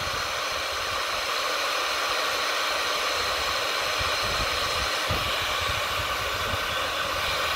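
Heat gun blowing hot air over the plastic of a cracked kayak, a loud, steady, close-up rushing whoosh that holds constant throughout with no voices.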